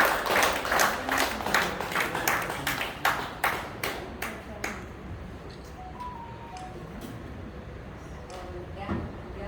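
Audience clapping at a Lions Club installation ceremony, a burst of applause fading over several seconds to scattered claps, with murmuring voices in the room.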